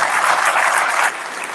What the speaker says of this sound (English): Let's all once again give a huge round of applause